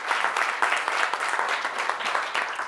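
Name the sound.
audience applause for a volunteer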